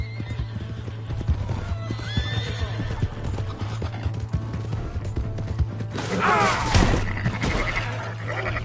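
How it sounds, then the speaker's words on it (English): A horse in the Red Dead Redemption 2 video game clip-clops along in a steady hoof rhythm and lets out a whinny, with a rumbling background hum and a louder burst of noise near the end. "Hey, that's my horse!"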